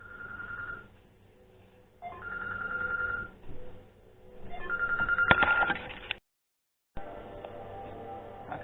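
A telephone rings in short repeated bursts, each a trilling electronic bell lasting about a second, with gaps between them. The sound is moderately close and ends in a sharp clatter before a brief silence.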